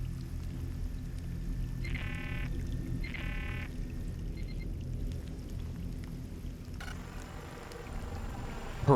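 Dripping and trickling water echo softly through an underwater cave in the game Scanner Sombre, with low ambient rumble and a few brief warbling tones layered over the quiet watery drift.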